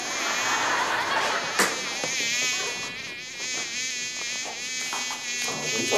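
A fly's buzz is played as part of a hidden-camera prank, a loud, steady, close whine running continuously with only slight wavering, and faint voices heard beneath it.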